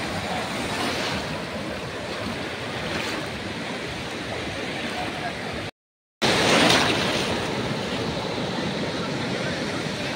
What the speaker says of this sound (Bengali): ঢেউ কিন্তু বেশ ভালোই আছে